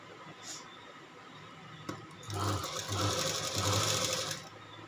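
A sewing machine stitching an embroidered blouse gives a single click, then runs in a fast, whirring mechanical burst for about two seconds with a brief stutter in the middle, close and fairly loud.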